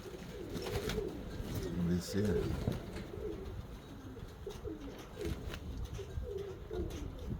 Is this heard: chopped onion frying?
no